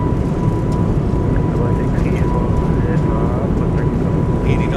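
Airbus A220 engines at takeoff power in a flight simulator, a loud, steady roaring rumble with a thin constant whine on top, heard from the cabin while a voice talks over it.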